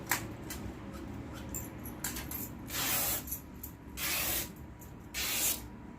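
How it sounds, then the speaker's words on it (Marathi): Scissors cutting a four-inch strip of fabric from an old saree, heard as several close, breathy snipping swishes in separate bursts over a quiet background, with no one talking. "या ठिकाणी मी चार इंचाची पट्टी कट करत आहे"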